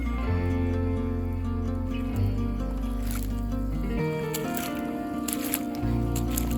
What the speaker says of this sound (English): I'm walking in deep water.